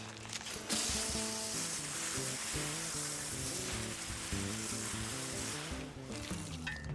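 Water sprays onto a compost pile to wet it, a steady broadband hiss lasting several seconds beneath quiet tonal background sound.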